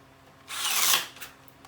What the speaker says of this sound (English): This drill doesn't go through super well through the piping.